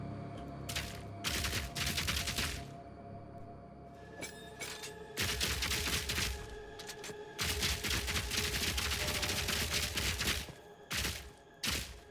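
Lightning grenades fired with scatter shot in Path of Exile 2 burst in repeated dense volleys with crackling, shattering bangs and short pauses between them, close and loud with no talk.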